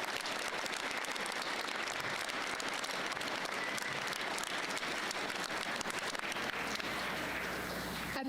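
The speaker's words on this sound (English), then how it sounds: "Can we please give him a round of applause?" An audience at a school Veterans Day assembly applauds, a dense, steady wash of clapping that lasts the whole stretch and eases slightly at the end.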